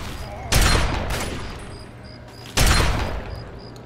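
Gunfire in the Fallout 3 video game, two loud sharp bursts of shots about two seconds apart, each ringing out and decaying, with no speech.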